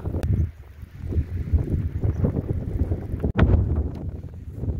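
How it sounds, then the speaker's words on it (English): Strong wind sweeps across Angle Tarn, a mountain tarn in the Lake District fells, roaring steadily and buffeting the microphone close up, with brief gusty surges and no talk. "The wind's pretty strong."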